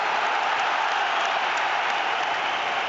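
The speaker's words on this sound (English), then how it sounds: "you can hear the affection in which he is held as Hampden applauds his memory" A stadium crowd at Hampden Park applauds in memory of a former Scotland player during the Scotland vs Greece Nations League playoff. The clapping is a dense, steady roar that holds at full strength throughout, with no voices standing out.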